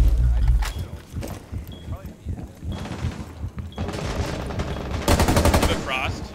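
Rapid bursts of automatic gunfire from the Rainbow Six Siege video game, loud and close, in clusters across the clip, with players talking over the shots.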